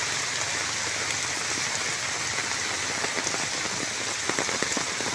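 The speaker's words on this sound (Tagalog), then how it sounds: "Sobrang lakas ng ulan dito." Heavy typhoon rain on Burias Island pours steadily, a dense, loud hiss of drops pattering on surfaces throughout with no pauses.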